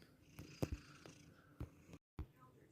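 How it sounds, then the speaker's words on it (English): Pet cat purring softly while being petted and scratched below the shoulder blades, close and faint, with low breathy pulses at an uneven rhythm and a brief cut of silence. "That's a happy cat."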